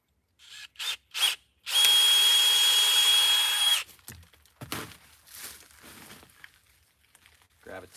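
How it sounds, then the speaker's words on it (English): A power drill bores a tap hole into a maple tree: a few short whirring starts, then one loud sustained burst of about two seconds, followed by softer scraping and rustling close by. "Turn up my drill a little."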